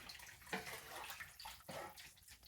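Vegetable broth pours steadily into a large pot of gumbo, a soft continuous liquid splash with a few brief surges. It stays faint and there is no talk.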